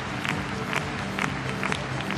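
At a show jumping event in Bremen, the Euroclassics 2012, a large crowd cheers and applauds in a continuous broad roar with small rhythmic swells, heard at a moderate distance.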